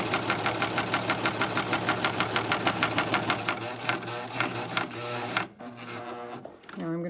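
Serger stitching rapidly along a fabric edge toward a corner, a fast steady mechanical clatter in even rhythm up close, stopping abruptly near the end while a voice speaks.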